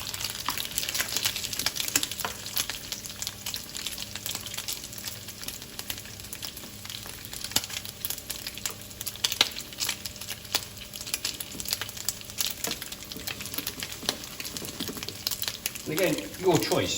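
Bacon fries in a pan for carbonara, giving a steady close sizzle dotted with sharp crackles and pops throughout.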